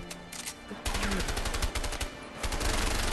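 Rapid bursts of automatic gunfire ring out in the A Way Out video game, a dense rattling volley after a brief lull. The shots are loud and close.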